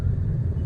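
Low rumbling vibration inside a Honda Amaze with a faulty steering rack, a steady rattle lasting under a second, close and fairly loud with no voices.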